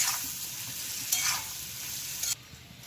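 Roasted potatoes being stirred with lemon juice in a hot pan: steady close sizzle with brief scraping stir strokes, ending abruptly into quieter frying.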